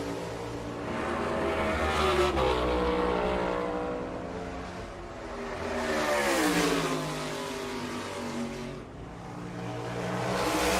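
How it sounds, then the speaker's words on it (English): NASCAR Cup Series stock car at Richmond Raceway on a single qualifying lap, its engine a loud continuous roar rising and falling in pitch as it passes and swings through the turns, with no talking. "Ryan Blaney out for his qualifying lap."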